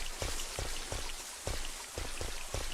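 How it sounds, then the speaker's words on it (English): Rain from the Resident Evil 3 video game, a steady hiss of falling drops pattering on surfaces with soft periodic swells, heard alone at moderate level. "Why is the rain sound so much clearer on the..."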